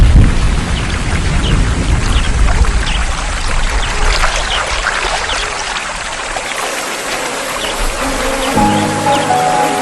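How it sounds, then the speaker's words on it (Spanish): Rain pours down over a river landscape along the Ewaso Ngiro, a loud, dense wash of falling water that continues unbroken throughout, with a faint low tonal sound entering near the end. "Finalmente, llueve."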